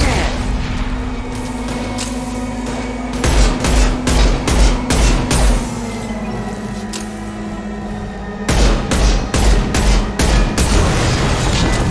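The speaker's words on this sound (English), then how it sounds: "Heavy fire!" Heavy gunfire rattles through a Mass Effect: Legendary Edition firefight: two loud bursts of rapid shots and booms over a constant rumbling background.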